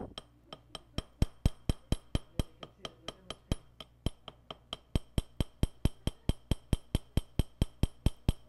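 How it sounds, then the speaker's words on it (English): Sharp, evenly spaced knocks strike repeatedly on a workbench, about three per second, with a bright ringing edge like hammer blows on a hard surface, close and steady. "if you hammer the bench again everything will fall into place"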